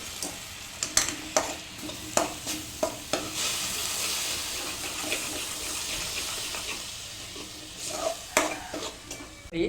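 Spiced masala puri filling of potato and peas being stirred with chaat masala, salt and cumin, a spoon knocking and scraping the vessel in irregular clinks over a soft steady hiss.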